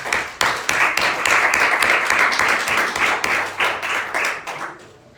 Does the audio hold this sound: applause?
yes